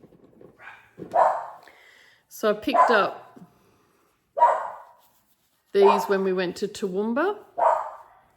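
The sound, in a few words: dogs barking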